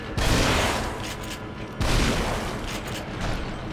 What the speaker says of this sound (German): Frage ist halt jetzt, einfach draufballern? Haben wir da eine Schrotflinte dabei?